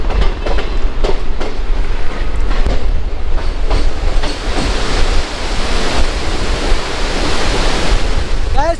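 Train crossing the Farakka Barrage in India on the Kolkata to Cooch Behar route, a loud, continuous roar of wheels and rushing air with faint rhythmic clatter, heard from inside the train.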